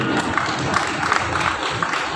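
An audience at a religious sermon in Surya Nagar claps together in a dense, steady patter of applause that lasts the whole stretch at moderate loudness.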